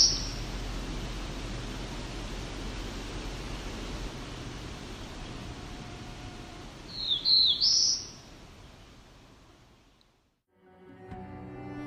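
A warbler's short, high, bright song phrase rings out over a hissing outdoor background, a brief burst of chirps near the middle before the ambience fades out.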